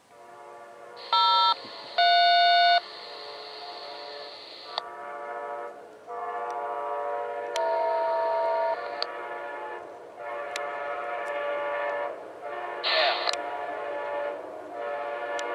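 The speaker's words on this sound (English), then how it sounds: "That's a good horn." An Amtrak passenger train passes with a long, loud multi-note horn, sounded in several blasts of varying length over a steady rumble of the moving train, fairly close, with no talk.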